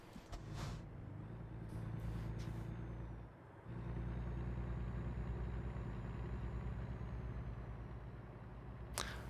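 Air brake hiss on a Kenworth W900 truck in American Truck Simulator, sharp pneumatic bursts over a steady low diesel engine rumble, close and alone.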